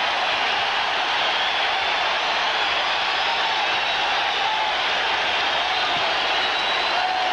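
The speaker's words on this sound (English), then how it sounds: "Listen to the crowd at the forum." A packed Forum arena crowd at a 1990 NBA playoff game between the Phoenix Suns and L.A. Lakers roars in a constant, wall-like din of cheering that never lets up, distant and hissy, with no distinct voices.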